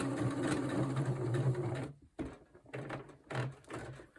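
Sewing machine running a straight stitch on a pocket for a slow stitched cover, a close, steady humming whir for two seconds, then short intermittent bursts as the stitching backs up and restarts.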